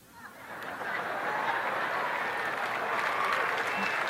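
An audience at a political speech breaks into applause, a continuous wash of many hands clapping at a distance, swelling in the first second and then holding steady.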